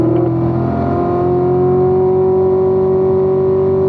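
A loud race car engine accelerating through the gears up to fifth on a Las Vegas track holds a strong, steady tone, pitch creeping upward as it pulls, close and continuous throughout.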